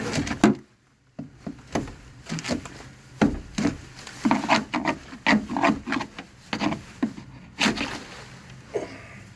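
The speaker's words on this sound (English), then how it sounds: "around these bolts with the saw" A hand saw works around the engine mount bolts of a 40 ft Concord, giving close, steady back-and-forth rasping strokes in a fairly even rhythm, with a brief pause near the start and no talking.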